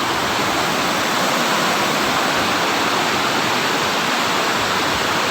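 River water rushes in a loud, steady broadband roar, continuous and unbroken, close by near an old building from 1911.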